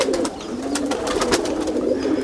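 Pigeons coo close by in soft, low, rolling murmurs with a steady throaty pulse, alone without talk.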